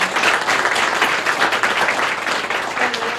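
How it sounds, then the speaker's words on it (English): A steady, full round of crowd applause rings out for an event moderator, loud and continuous throughout without any talking. "a big round of applause for Monica Walker-Bolton"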